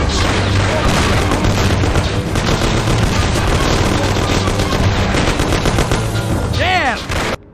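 Sustained gunfire in a shootout in the video game Mafia: loud, dense bursts of rapid shots that overlap without pause, with faint shouting mixed in.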